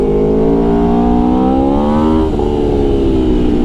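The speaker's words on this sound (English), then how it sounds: "The hills are alive with the sound of V4." A 2019 Aprilia Tuono V4 1100 Factory V4 motorcycle engine revs hard and loud, pitch climbing steadily, then dropping sharply as the throttle shuts and rising again.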